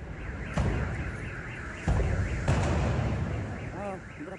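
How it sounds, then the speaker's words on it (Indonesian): Several heavy booming blasts from a smelter at Morowali Industrial Park, Central Sulawesi, go off in succession, loud and distant, amid a car alarm's wailing and excited shouting voices. "Dari video juga terdengar beberapa kali ledakan beruntun"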